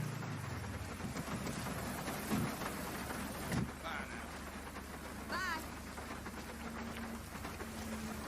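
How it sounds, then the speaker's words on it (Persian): Steady rain in the video game GTA 5 hisses throughout with a few soft thuds, a brief rising electronic chirp and a low hum underneath; a faint voice is heard. "بارونه."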